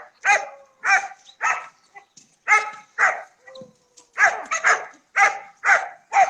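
Several puppies about 3 to 4 months old bark and yip in quick, repeated bursts close by, with a few high whimpers in the short gaps between barks.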